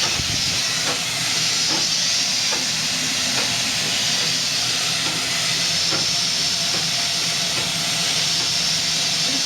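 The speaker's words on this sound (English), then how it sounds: "This is just steam wafting through the engine to keep it warm." Continuous loud steam hiss rushing through the engine of a 1910 Stanley Steamer steam car, broad and steady, with faint periodic mechanical clicks underneath.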